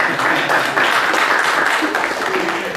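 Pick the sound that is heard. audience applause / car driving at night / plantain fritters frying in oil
audience applause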